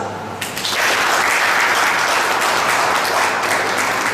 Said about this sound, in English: let us welcome the guest with a round of applause